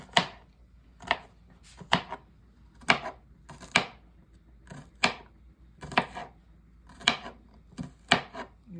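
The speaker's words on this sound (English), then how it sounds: "cut up my garlic" Garlic cloves being chopped with a knife on a cutting board, heard as a steady series of about ten close, sharp thuds spaced roughly a second apart, with no talking.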